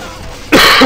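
A single loud, rough cough bursts out after a quiet stretch in a Bioshock 2 game session, harsh and close, standing alone without talk.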